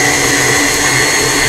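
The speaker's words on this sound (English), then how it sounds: "I'm gonna mix that on speed number 4 for 1 minute" A KitchenAid stand mixer beating peanut butter chip cookie dough on speed 4 with a silicone-edged beater, giving a loud, steady motor whine that runs unbroken and alone throughout.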